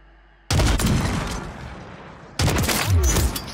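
Loud, close gunfire bursts from a MORS sniper rifle in the Warzone video game, one heavy report followed by a second blast about two seconds later with rumbling decay and game noise in between.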